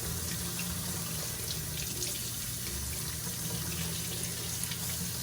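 Paint brushes are washed under a running tap, a steady close stream of water splashing into a sink for a few seconds with no voices.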